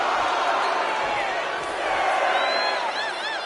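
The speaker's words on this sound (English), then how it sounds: "And Burrow is revving this crowd up." Arena crowd in the WWE 2K25 wrestling video game roars steadily throughout an Intercontinental Championship tournament match, a dense, continuous swell of cheering with whistles rising near the end, with commentary running over it.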